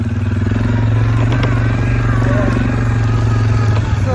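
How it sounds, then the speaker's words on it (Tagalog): A quad bike engine runs on a New Zealand dairy farm, a loud, steady, close rumbling drone with a pulsing beat and faint clatter throughout, no talking over it. "Sira na yung quad bike."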